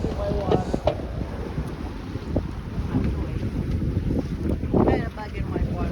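Gusty wind buffets a sailboat at sea, roaring steadily into the microphone with surges and water wash throughout, while a voice speaks briefly beneath it.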